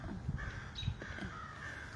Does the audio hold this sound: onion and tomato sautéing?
no